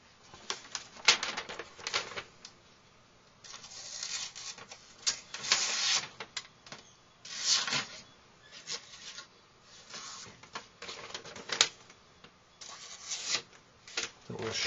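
A Cold Steel SRK knife blade shaves across paper in a quick run of close, dry rasping strokes repeated over several seconds, with brief pauses between passes.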